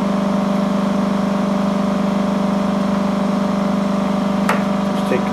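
An 8-inch pulse motor spins at high speed, giving a loud, unbroken, steady whir with a strong tonal hum that holds constant throughout, broken only by a brief click near the end.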